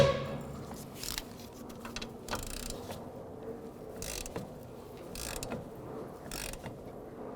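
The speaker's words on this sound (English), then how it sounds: "Now we can bottom this out and then torque it to 74 foot-pounds." A ratchet torquing the CV axle nut on a 2010–2013 Ford Transit Connect 2.0L, heard as faint, sparse mechanical clicks and brief scraping bursts against a quiet workshop background.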